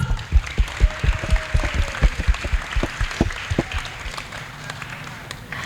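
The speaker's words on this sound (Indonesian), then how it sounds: "tepuk tangan untuk Bagus." Audience of vocational high school students applauding a classmate at a school election-opinion event, a burst of scattered, uneven claps that fades over several seconds, with faint voices underneath.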